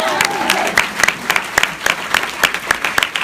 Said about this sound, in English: You can clap for that now.